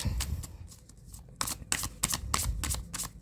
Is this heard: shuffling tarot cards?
yes